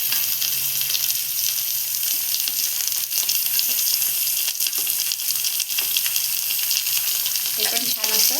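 Cabbage and tomato fry in hot oil with onion, bay leaf and curry leaves for a jackfruit biryani, giving a loud, steady sizzle with faint stirring clinks near the end.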